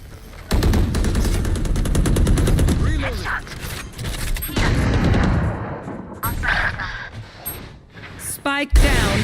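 Rapid Valorant gunfire bursts crackle loudly in a rattling fusillade, with sharp single shots and mechanical clicks mixed in under excited talk.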